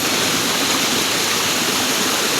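Haba-Haba Falls pours in a steady, loud, close rush of falling water, dense and unbroken throughout with no voices over it.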